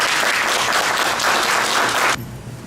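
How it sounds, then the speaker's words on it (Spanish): An audience applauds at the close of a panel discussion, giving a loud, steady burst of clapping that cuts off abruptly near the end, leaving quiet room tone. "Les pedimos por favor un aplauso de nuestro público."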